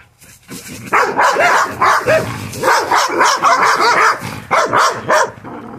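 A dog barks repeatedly outdoors near cattle, with close, loud bursts in an irregular rhythm and a few yips and whimpers between them, and no talking.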